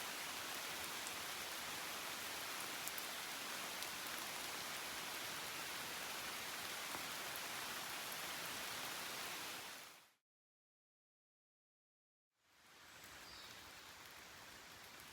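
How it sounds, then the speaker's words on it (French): Steady rain falling on a surface, a dense even hiss that runs continuously, cuts out briefly to silence, then resumes at the same level. "Bon bah ça continue bien à pleuvoir."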